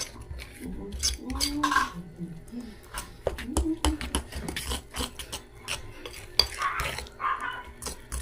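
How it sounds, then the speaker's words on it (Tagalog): A utensil stirs puto batter mixed with Royal soda in a bowl, producing soft scraping and clinking strokes at an irregular pace, close and fairly quiet, while someone talks over it. "Haluin lang natin ang haluin."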